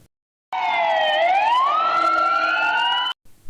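An ambulance siren sweeps past at close range, loud and unbroken for about two and a half seconds, its pitch bending as it goes by, then cuts off abruptly into near silence.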